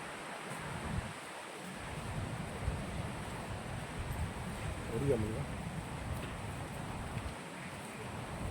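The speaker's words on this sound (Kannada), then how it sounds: "ಬೀಚ್ ಸೌಂಡೇ ತುಂಬ ಜಾಸ್ತಿ ಇದೆ" Steady broadband wash of surf and gusting wind at Honnavar Eco Beach, continuous and fairly loud, with low rumbling wind buffets on the microphone.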